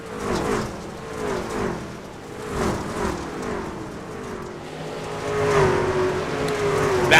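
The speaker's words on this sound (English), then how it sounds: "You see him exiting turns 3 and 4, and they're going to come screaming by in just a second or two." Race trucks in iRacing at Eldora dirt track roar past, engines revving and rising and falling in repeated waves, loud and close with the sound swelling toward the end.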